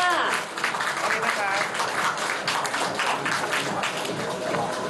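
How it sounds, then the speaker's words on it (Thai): Audience applause at a certificate-awarding ceremony in Thailand, a steady wash of many hands clapping for about five seconds, with voices mixed in underneath. "ขอเสียงปรบมือด้วยค่ะ"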